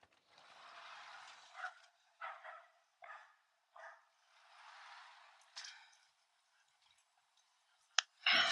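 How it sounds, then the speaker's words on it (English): A dog barking as people walk out the door, several sharp barks spaced irregularly and heard at a distance, separated by quieter stretches of footsteps and movement, with a loud thump near the end. "The dog feels the need to bark when we walk out the door."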